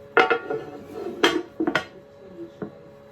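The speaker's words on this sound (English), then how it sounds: "So I'm just going to put the lid back on and pop that straight back in the simmering oven" A stew pot's lid knocks back into place and the pot clunks as it goes into a simmering oven, a run of close, sharp metallic clanks and scrapes in irregular bursts with quiet gaps between.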